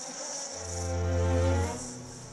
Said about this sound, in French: C'est que ça, c'est infesté d'abeilles et de bourdons, là.